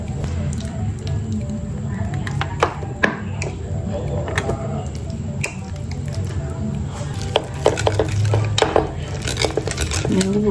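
Cream cheese, its water drained off, is stirred into a soft paste in a bowl for a cheesecake, giving repeated light clinks and wet squishing scrapes over a steady low background hum.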